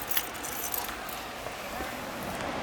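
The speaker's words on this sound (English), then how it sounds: "She dropped the keys." A set of keys dropped outdoors lands with a brief metallic jangle, a couple of quick clinks over steady ambient noise, with people talking nearby.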